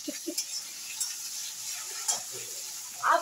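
Tomatoes tossed into a hot frying pan, a soft steady sizzle with light scraping and stirring clinks, fairly close and not very loud.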